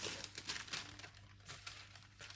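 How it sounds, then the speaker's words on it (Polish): Baking paper crinkles and rustles in short crackly bursts, loudest at the start, then trails into softer scattered crumpling against a faint steady hum, ending with a sudden louder knock. "Jedynie co jest potrzebne to papier do pieczenia."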